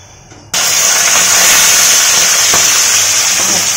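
Large bata fish drop into hot oil in a pan and set off a sudden loud, steady sizzle that carries on unbroken, with a faint crackle or two in it.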